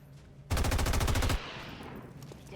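Rapid automatic gunfire from the XCOM 2 video game, a loud burst of closely spaced shots lasting under a second, followed by a fading reverberant tail.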